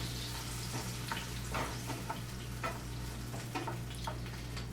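Tomato sauce, Parmesan and pasta being stirred in a hot pan, a steady close sizzle with scattered scraping, clicking utensil strokes throughout and a low constant hum underneath.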